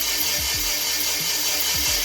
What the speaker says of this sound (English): Let's hit the starter real fast.